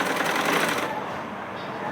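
A sewing machine stitches blouse fabric, a fast, dense mechanical whir running continuously at close range, with a voice speaking over it.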